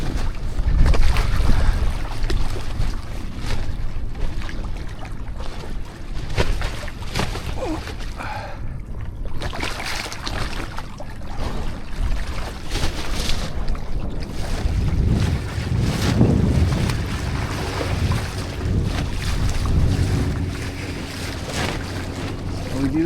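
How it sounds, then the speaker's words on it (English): Wind blows hard across the microphone on open water during parawing riding offshore, a loud continuous roar with gusty surges and rumbling buffeting throughout. "A bit of wind."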